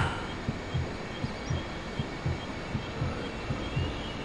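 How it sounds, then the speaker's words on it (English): Heartbeat sound effect in the video game Sanitarium, a soft rhythmic double-thump repeating steadily at about two beats per second over a faint ambient hum, with no voices. "I keep hearing the heartbeat"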